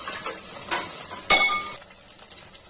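Mint and coriander leaves sizzle in hot oil in a pan, a soft frying hiss broken by a couple of sharp clinks of utensil against metal, no voices.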